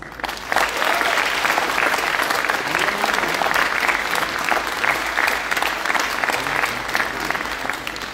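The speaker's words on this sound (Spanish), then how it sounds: "Recibamos con un fuerte aplauso al doctor Carlos Manuel Galán Páez." Sustained audience applause welcomes Dr. Carlos Manuel Galán Páez to the stage at a formal book event. Dense, steady clapping starts after a brief pause and fills about seven seconds at a constant, fairly loud level.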